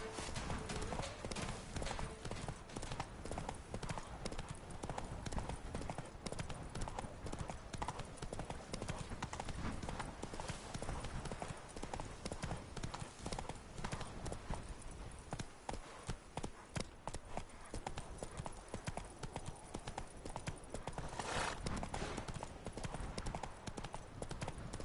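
Roach, the horse in The Witcher III, clip-clops along in a steady, continuous rhythm of hoofbeats, fairly close and prominent throughout, with no talking.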